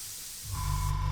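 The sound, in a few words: airbrush spraying Tamiya XF85 paint through a mask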